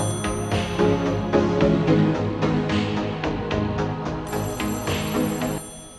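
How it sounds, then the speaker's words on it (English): A telephone rings repeatedly in the horror game Echostasis, a loud electronic bell pattern with rhythmic bursts over a sustained eerie musical drone, without any talking. "There's a phone ringing somewhere."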